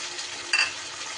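Water-thinned spice paste hitting a hot pan, a continuous bright sizzle with a sharp burst as it lands midway, close and fairly loud, then settling back to an even hiss.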